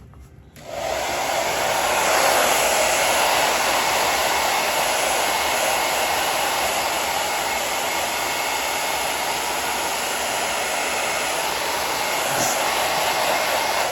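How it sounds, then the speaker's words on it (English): A hair dryer roars steadily and close, a continuous loud whoosh of blown air that runs unbroken from start to finish after a brief quiet opening. "Dry it up with our air dryer."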